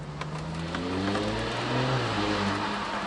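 An Audi S4 in individual drive mode revs up and drops back, its engine note rising and falling with a few sharp pops and crackles, moderately close and without speech.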